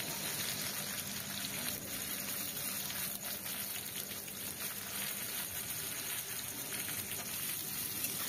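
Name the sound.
onions frying in a hot wok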